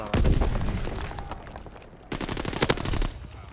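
Gunfire in the World War II shooter game Call of Duty: WWII, with loud rapid automatic bursts and booming shots in two dense clusters separated by a brief lull.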